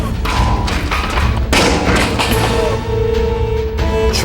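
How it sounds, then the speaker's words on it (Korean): A butane gas canister set between two gas burners under a shared grill plate bursts from the heat, a loud sudden boom followed by crackling, rumbling aftermath and a lingering hiss. "중앙에 있는 부탄가스 용기에 열이 가해져 폭발하는 것입니다."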